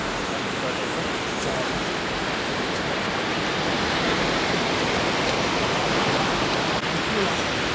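Surf rolls in at a beach in Bali where swimming is dangerous, a loud continuous wash of breaking waves filling the air without pause.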